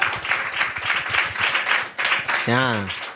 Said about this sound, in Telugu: గట్టిగా చప్పట్లు కొట్టు కూడా.